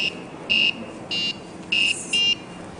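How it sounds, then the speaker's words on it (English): A piezo buzzer wired through a fruit circuit in a school robotics lab sounds four short, shrill electronic beeps in an uneven rhythm, loud and close with nothing else around them. "This produces sound because of the piezo buzzer built in the e-bike."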